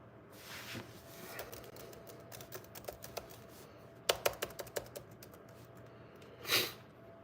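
Keys clatter on a computer keyboard in irregular bursts of clicks, with a denser flurry in the middle and a louder clack near the end, over a low background hum and no voices.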